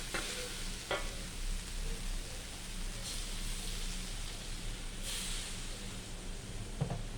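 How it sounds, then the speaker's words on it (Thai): Chili paste and coconut milk stir-fried together in a pan, giving a steady, moderately loud sizzle with occasional scraping stirs and no talking. "ยายผัดไปเลยพร้อมกัน กะทิกับกับพริกเคี่ยวไปพร้อมกันเลย"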